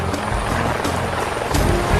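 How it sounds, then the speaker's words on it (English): A helicopter used to sling out bundles from a cannabis garden thumps with a steady rotor beat and a broad engine roar, close and continuous. "This is one of the few gardens that we'll use the helicopter this summer to sling it out."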